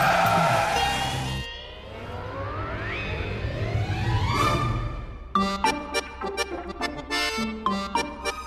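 A car's engine revs up after a gear change as its tyres skid with a rising squeal, followed by sharp, choppy bursts of noise near the end; no speech.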